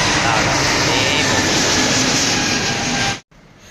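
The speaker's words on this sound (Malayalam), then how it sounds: "അവിടുന്ന് ഒരു ഫ്ലൈറ്റ് ഇതാ ടേക്ക് ഓഫ് ചെയ്യുന്നുണ്ട് കേട്ടോ" A loud, steady jet engine roar of an airplane taking off at Kochi airport, Nedumbassery, sustained and powerful, then cuts off abruptly near the end.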